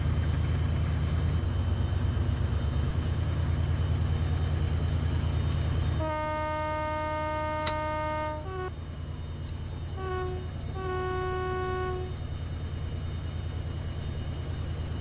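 A Class 68 diesel locomotive in a train simulator on the Manchester to Huddersfield route, its engine droning low and steady while two-tone horn blasts sound, one long then several shorter, clear and loud.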